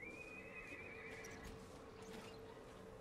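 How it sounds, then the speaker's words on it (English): A shrill, synthetic-edged robot horse whinny in the video game BioShock Infinite rises and trails off, followed by faint clip-clop hoofbeats over a steady background hum. "there's a robot horse back here"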